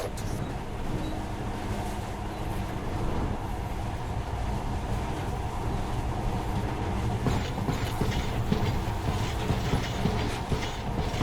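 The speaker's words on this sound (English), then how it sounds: "In the past, trains were ordinary things, but this monorail seems magic, doesn't it?" A monorail train in the Metro: Last Light video game rolls along with a steady, dense rumble and faint rhythmic clatter, continuous and fairly loud throughout, with no voices.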